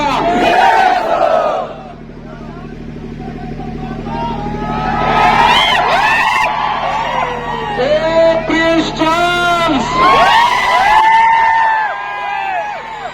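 A large crowd at a political rally in Pandharpur cheers and chants in loud waves, with shouted slogans and a voice speaking over the din.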